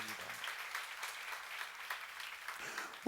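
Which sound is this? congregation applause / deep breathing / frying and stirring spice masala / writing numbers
congregation applause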